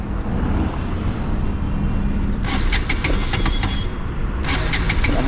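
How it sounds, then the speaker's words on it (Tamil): A 2025 Bajaj Pulsar RS 200 motorcycle's exhaust note, a loud close engine drone that runs steadily, with sharper blips of revving partway through. "வண்டியோட எக்ஸாஸ்ட் நோட்டு கேளுங்க"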